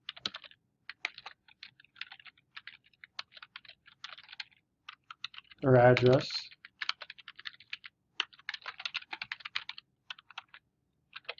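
Typing on a computer keyboard while entering a nonprofit's name into an insurance quote form: quick, light key clicks tapping out in irregular bursts across the whole stretch, with a person speaking briefly in the middle.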